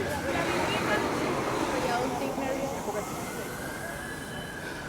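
An emergency vehicle siren wails along a downtown Toronto street near the CN Tower, a rising and falling tone over city traffic noise, with a voice talking over it.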